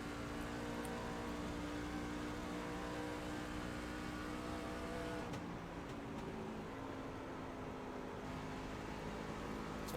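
A race car engine at full throttle in the iRacing sim, racing at Homestead, gives a loud, continuous high-pitched whine with sustained tonal drone and no pauses.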